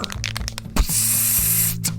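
An aerosol spray can lets out one sustained hiss of about a second, following a short stretch of music.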